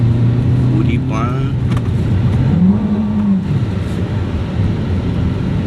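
A car engine labors up a steep dirt road at Pulang Lupa, a steady close drone that swells and revs slightly midway, with people talking over it.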